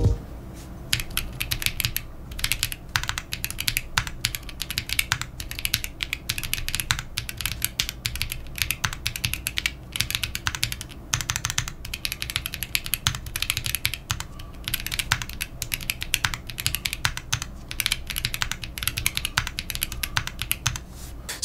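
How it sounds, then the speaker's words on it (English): Mechanical keystrokes on a Meletrix Zoompad numpad keyboard, a steady run of crisp clacks typed at an even, quick pace for about twenty seconds, close up with no talking. "here's a little short sound test of the Zoompad"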